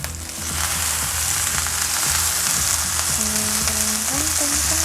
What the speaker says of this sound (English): I'll brown it some more on that side too.